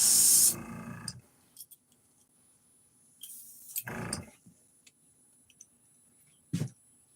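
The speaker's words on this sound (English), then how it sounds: "let me clean out the airbrush here" An airbrush being cleaned out gives a loud hissing spray burst at the start, then a longer hiss midway and a short final blast, separated by quiet clicks and handling noises.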